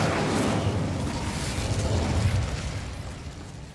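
Incendio fire spell cast in the Hogwarts Legacy video game, a loud sustained fiery whoosh and rumbling burst with heavy low-end roar that gradually fades over a few seconds, no voices.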